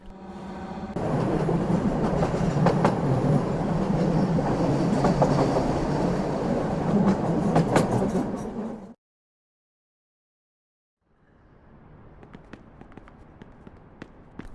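A subway train in the video game Mafia 2 rumbles loudly with rhythmic clatter, then cuts to silence, and a quieter rolling clatter builds again as the train departs.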